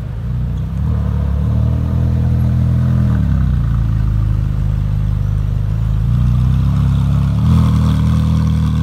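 A Ferrari 458 Speciale with its 4.5-litre V8 runs steadily at a low, even idle with a slight rise in pitch partway through, close and continuous throughout.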